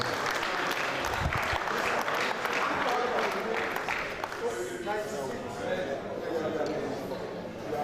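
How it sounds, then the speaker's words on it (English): A crowd applauds steadily, a dense patter of clapping that stays loud for several seconds, with some chatter underneath. "Please support with a round of applause"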